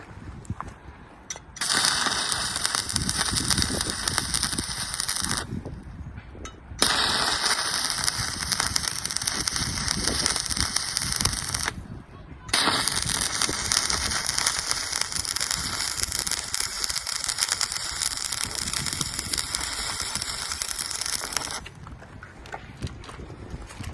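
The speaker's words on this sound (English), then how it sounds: "I'll do some starts and stops to show you the power of this little welder." An EA 2311 battery-powered welder runs long crackling, buzzing arcs of around 150 amps, broken by several short pauses where the weld stops and restrikes. The sound is close and steady, with no voices.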